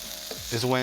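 Onions and vegetables fry in a pan, a steady close sizzle that swells louder in the second half, with a brief stirring scrape partway through.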